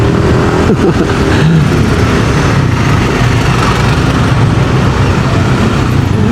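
Steady, loud road traffic on a congested street, cars and motorcycles idling and revving in a continuous engine rumble with no break throughout.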